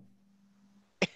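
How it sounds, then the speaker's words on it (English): A single short cough from a person on a webinar call, sharp and close, following a low steady hum. "Me and my coughing."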